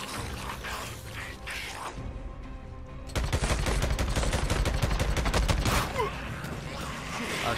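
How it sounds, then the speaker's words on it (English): Gunfire from the Days Gone video game, with a rapid burst of shots and mechanical clatter that grows loud and dense after a quieter opening stretch. "I shot him in the head"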